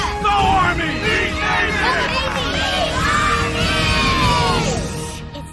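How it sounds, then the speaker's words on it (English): Crowd at an Army vs Navy football game cheering and yelling, a dense mass of overlapping shouts and whoops, loud and sustained before fading slightly at the end. "Fort Atkinson is cheering for us."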